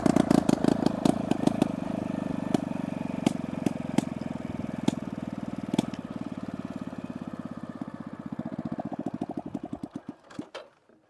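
A Honda Pridor motorcycle engine fitted with a 70cc piston idles with the choke raised, a steady fast putter with sharp pops, gradually weakening and stuttering before dying out as the carburettor runs dry of petrol.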